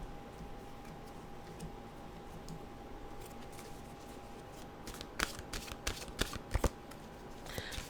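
Mantra cards being shuffled close by, a burst of crisp riffling and tapping clicks over a steady low room hum, with no talking.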